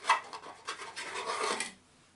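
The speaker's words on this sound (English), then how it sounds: "give it one last shuffle and then a cut" A deck of Arkham Horror Mythos cards is riffled and shuffled close by, a soft papery rasp in several quick bursts that stops abruptly near the end.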